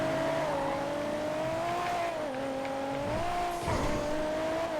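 A sports car engine in GTA FiveM, the Arena War version, revs continuously at high pitch, rising and dipping with gear shifts and a brief squeal near the end, loud and close throughout.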